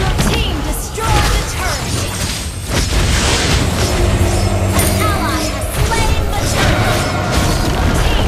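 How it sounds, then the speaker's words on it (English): A turret being destroyed in the mobile game Mobile Legends: Bang Bang, heard as loud crashing booms and mechanical clatter over a dense layer of battle effects and music, with a voice announcement mixed in. "Our turret has been destroyed."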